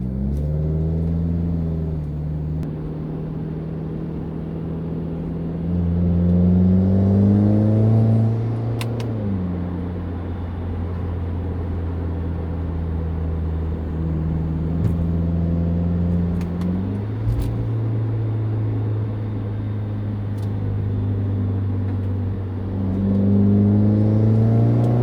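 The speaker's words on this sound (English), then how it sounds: "what the car will sound like as you're shifting through the gears in the city" A car fitted with a Nameless axleback exhaust with 4-inch tips and a 5-inch muffler drives through city streets, its engine note rising with each gear and dropping at every shift, repeating several times in a steady, close drone without talk.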